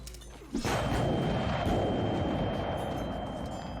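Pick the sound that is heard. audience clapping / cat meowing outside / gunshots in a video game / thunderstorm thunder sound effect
gunshots in a video game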